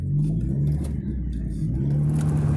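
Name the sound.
stick-shift pickup truck engine driving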